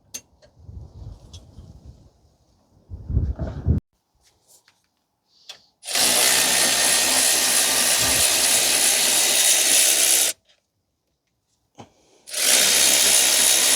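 An impact wrench hammers loudly in two sustained bursts, loosening a brake caliper bolt on a 2012 Toyota Corolla 1.8. Softer metallic handling noises come first.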